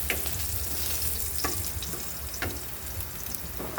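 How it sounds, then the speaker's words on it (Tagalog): Garlic sautéing in a pan, a steady broadband sizzle with a few sharp utensil scrapes and clicks spaced through it, close and moderately loud, with no talking. "Sutay natin yung bawang."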